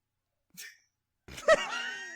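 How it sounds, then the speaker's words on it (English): One abrupt sneeze bursts out after a brief faint sound, followed by a drawn-out voiced exclamation, all fairly close and standing alone. "I recognize that sneeze."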